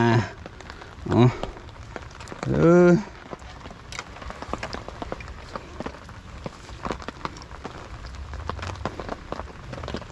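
Rain patters steadily on a nearby surface with scattered drops at a natural fishing spot, while someone speaks briefly near the start.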